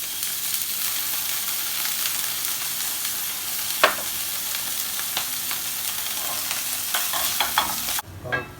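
Bacon frying in a pan for truffle pasta, giving a steady, close broadband sizzle with occasional soft clicks and stirring scrapes, cutting off abruptly near the end.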